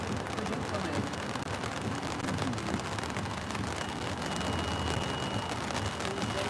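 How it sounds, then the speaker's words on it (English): Rain falling on the Hollywood Walk of Fame in California, a soft, steady outdoor hiss with a faint background rumble, fairly quiet and continuous with no clear voices. "It's actually raining."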